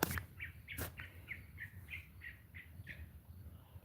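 A yellow-throated greenbul gives a loud, repeated series of sharp chirping calls at a steady rhythm in a forest, with a faint background hum.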